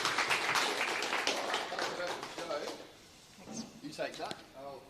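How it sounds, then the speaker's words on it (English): An audience claps in a round of applause after a startup pitch, a dense burst of many hands that fades over a few seconds as voices talk over it. "Round of applause."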